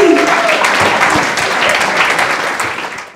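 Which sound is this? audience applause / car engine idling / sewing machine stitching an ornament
audience applause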